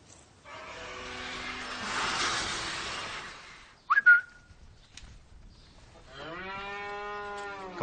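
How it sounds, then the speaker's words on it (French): On a farm, a person gives a quick, shrill whistle toward cattle, heard between long, loud lowing moos from the livestock close by. "Quand on siffle, ils n'ont pas peur."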